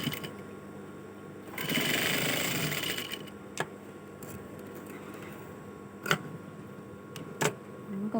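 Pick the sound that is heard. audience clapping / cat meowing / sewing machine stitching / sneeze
sewing machine stitching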